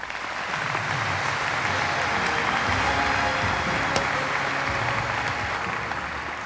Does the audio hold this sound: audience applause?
yes